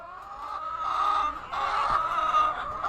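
Backyard chickens cluck softly and repeatedly in a coop, with brief bursts of higher clucking rising and falling, moderately close and with no voices.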